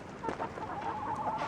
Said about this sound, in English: So I have 18 birds and 1 imposter.